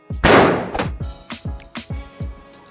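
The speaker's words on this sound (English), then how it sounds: "Is that gunfire? Sure is." A rapid string of loud gunshots, about seven sharp cracks with echoing tails, the first and heaviest followed by quicker, evenly spaced shots.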